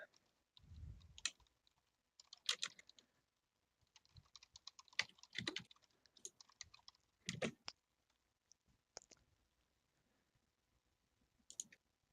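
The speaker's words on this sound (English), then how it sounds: "I'm pretty sure I'm typing this right." Computer keyboard keys clattering in quick irregular bursts with brief pauses, close and fairly quiet, no voices over the typing.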